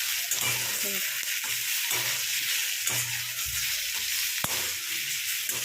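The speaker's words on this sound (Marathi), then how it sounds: "असं पूर्णपणे असं लालपर्यंत होईपर्यंत कांदा भाजायचा" Onions fry in a pan, giving a continuous close sizzle and hiss, broken by periodic scraping stir strokes and a brief clink, with no talking.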